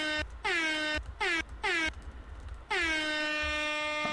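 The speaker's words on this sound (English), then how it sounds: "Oh, air horn." Air horn blasts: several short honks in an uneven burst followed by one longer sustained blare, loud and close.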